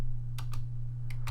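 Four separate clicks from a computer keyboard sound as a command is typed at a Windows command prompt, with a faint steady electrical hum underneath.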